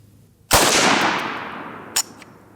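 A single rifle shot from a mud-caked AK-47 or AR-15 fired outdoors, one loud close crack with a long fading echo, followed by a faint short clack and no further shots.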